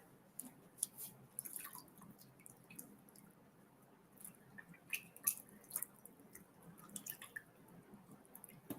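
Face being rinsed with water by hand at a sink: soft splashes, drips and wet squishing in irregular bursts, close and quiet.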